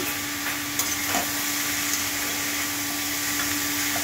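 Ginger paste with green chilies is stirred in a frying pan, giving a steady soft sizzle with faint scraping of the spoon and a low background hum.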